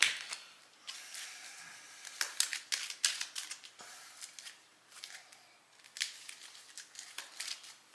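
Cards from a Marvel Champions villain encounter deck being shuffled by hand at a tabletop game, a run of quick, crisp riffling snaps and slaps in irregular bursts, close up with no talking.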